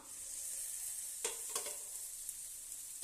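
Bitter gourd fries in a pan over a low flame, a soft, steady hiss of sizzling oil broken by a few brief stirring scrapes, quiet and close with no voices.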